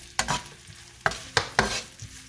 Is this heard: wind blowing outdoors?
no